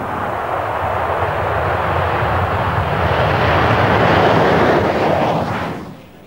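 Concorde jet engines roaring loudly in a broad, sustained rush that swells toward a peak and then cuts off sharply at the end, with no voices over it.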